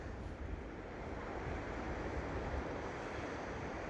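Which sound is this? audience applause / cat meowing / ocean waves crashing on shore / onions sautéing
ocean waves crashing on shore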